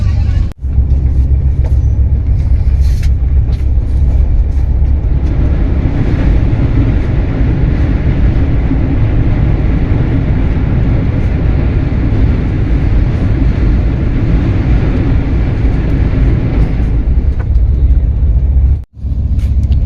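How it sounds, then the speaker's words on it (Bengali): Continuous low rumble and rattle of a moving train just past Bagnan, heard from inside a carriage, loud and steady, with a couple of brief sharp clunks. "ট্রেন এই সবে বাগনান বেরোলো"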